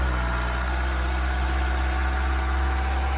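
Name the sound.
LDV G10 van engine revving from idle to 2,000 rpm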